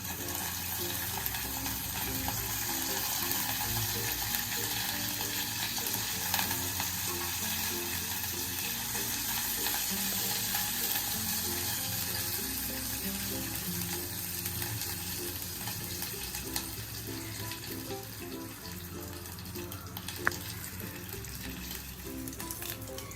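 Curry leaves frying in hot oil in a pan, a steady dense sizzle running throughout with occasional faint scrapes of stirring, fairly loud and close.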